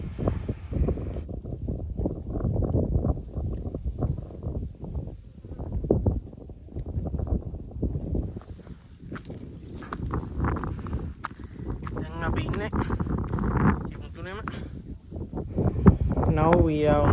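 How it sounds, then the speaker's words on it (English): Wind gusts buffet the microphone on a mountain top in Sri Lanka with a low, steady rumble, while people talk and footsteps shuffle nearby. "The wind is a little bit high."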